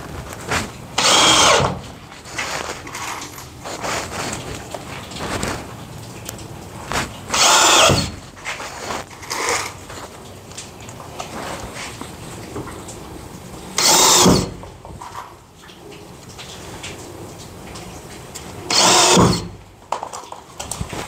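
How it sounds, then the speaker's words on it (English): A power drill drives screws through a wooden spacer into a bathroom privacy fixture, in four short, loud, close bursts separated by quieter pauses. "Let me screw a couple in and see if it works."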